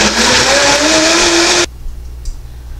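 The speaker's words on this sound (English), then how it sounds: "On to the Vitamix. Again, it's set on 20 seconds." A Vitamix blender set for a 20-second cycle whirs loudly and steadily through a smoothie, its motor pitch creeping upward, then cuts off abruptly, leaving near silence with a faint clink.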